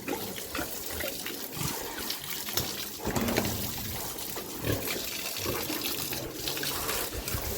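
Pigs are hosed down with water in hot weather, a steady rushing and splashing stream running throughout at moderate volume, broken by uneven splatters as the water hits the animals and the ground.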